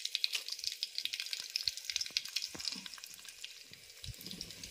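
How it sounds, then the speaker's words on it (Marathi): Curry leaves and crushed unpeeled garlic dropped into hot oil for a Konkan-style raw mango amti, giving a bright crackling sizzle with rapid pops, close and quiet, no talking. "कढीपत्ता आणि लसूण. मी लसूण चेचली आहे, मी अशीच टाकते सालासकट."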